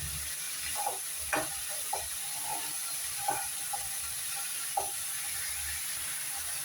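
Vegetables cooking and being stirred in a pan give a faint, steady sizzle broken by a handful of soft scraping clicks from the spoon.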